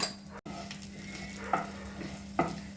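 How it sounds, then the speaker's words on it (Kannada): Mustard seeds, cumin, urad dal and chana dal spluttering in hot oil for an idli tempering, a steady close sizzle with a steady low hum beneath and a couple of sharper pops standing out. "ಸಾಸಿವೆ ಮತ್ತು ಜೀರಿಗೆ ಸಿಡಿಬೇಕು ಅಷ್ಟೊತ್ತಿಗೆ ಉದ್ದಿನ ಉದ್ದಿನಬೇಳೆ ಮತ್ತು ಕಡಲೆಬೇಳೆ ಕೂಡ ಹುರಿದಿರುತ್ತೆ"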